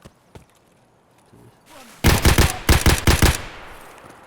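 Shotgun fire erupts in an Escape From Tarkov firefight: after a quiet lead-in with a faint click, a rapid burst of loud, close shots cracks out in two clustered volleys, then trails off into a fading echo.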